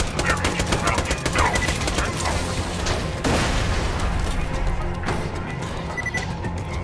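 Explosive weapons firing in Borderlands 2 co-op gameplay in the Highlands: dense, continuous bursts of gunfire and blasts, loud and close, rattling without pause over a busy game backdrop.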